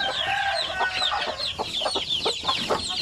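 A flock of Basilan native chicks and chickens cheep and cluck continuously nearby, with high chirps layered over lower clucks.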